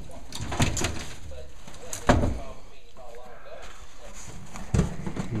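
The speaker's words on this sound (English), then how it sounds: "Got front flip open doors." The front flip-open doors of a 2011 Missouri-style duck boat swing open and shut with a few sharp knocks and clunks, spaced a couple of seconds apart, under someone talking nearby.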